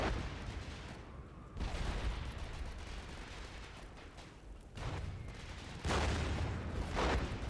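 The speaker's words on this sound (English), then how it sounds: "I'm going to drop the mortars on the infantry" Mortar barrages falling on infantry in a WW1 video game, a series of dense, rumbling explosive bursts arriving in waves, moderately loud with noisy battlefield din between them.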